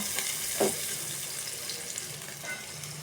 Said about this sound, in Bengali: দেখুন, পেঁয়াজটা ভাজা হচ্ছে আস্তে আস্তে।